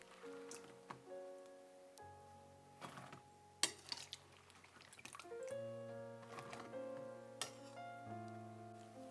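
Soaked eggplant pieces are drained, with water dripping and trickling among clinking dishes and utensils in a kitchen, scattered sharp knocks over a quiet background with no talking.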